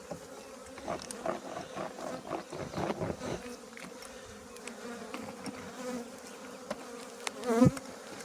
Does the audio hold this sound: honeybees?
yes